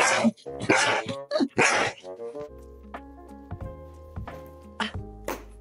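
Close-up dog wanting something, giving a few sharp yips and barks before drawn-out, high, whining whimpers.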